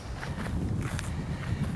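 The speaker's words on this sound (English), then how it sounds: "You hear things like footsteps," Muffled footsteps in the woods on Bald Hill, a few soft irregular steps over a low, rumbling background.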